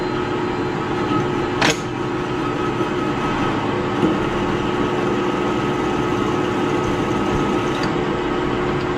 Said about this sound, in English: I don't do a lot of big machining with this little lathe, but it does a lot of little machining